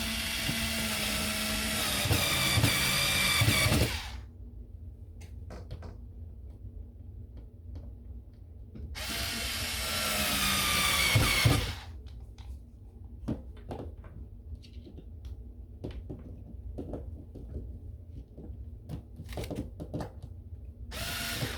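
A power drill drives screws while a curtain rod is mounted, two loud sustained whirring bursts of several seconds each separated by quiet stretches of small clicks and handling noises.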